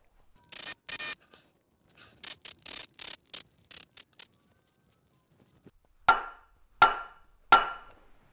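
A center punch marks a metal part on an Austin-Healey clutch for drilling. Scraping and rubbing come first, then three sharp metallic strikes ring out at an even pace near the end.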